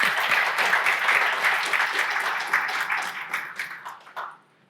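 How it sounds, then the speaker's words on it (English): An audience applauds panelists at a conference session, a dense burst of clapping from many hands that holds steady, then thins into scattered claps and stops near the end. "please join me in giving a round of applause to our amazing panelists"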